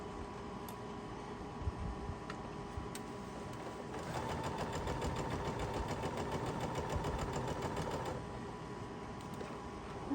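A sewing machine runs while a quilt is being assembled, its steady mechanical whir swelling louder and busier in the middle stretch before settling back to a quieter hum.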